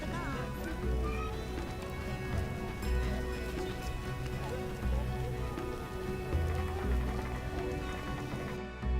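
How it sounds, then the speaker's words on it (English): Steady rain pours throughout a town scene in the video game The Witcher, a dense constant hiss with horse hooves clip-clopping and faint music underneath. "Stop raining!"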